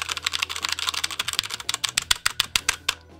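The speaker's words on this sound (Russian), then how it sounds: "Вот, типа, вот клавиатура." Typing on a computer keyboard: a rapid, close stream of clattering keystrokes that grows more spaced and louder toward the end, with no talk.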